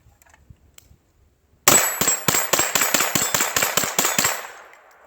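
A CMMG .22 Long Rifle conversion bolt in an AR pistol fires about eleven sharp shots in a quick, even string after a quiet pause, each with a ringing metallic crack, close and loud.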